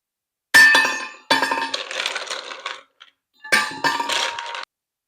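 Ice cubes clatter and clink loudly into a cooler in three quick dumped loads, each a sharp hard rattle that trails off, with a short quiet gap between.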